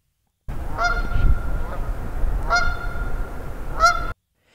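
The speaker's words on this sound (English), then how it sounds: "geese flying overhead" Several geese flying overhead honk in three separate bursts of calls, clear and fairly near, over a low rumbling outdoor background, with no talking.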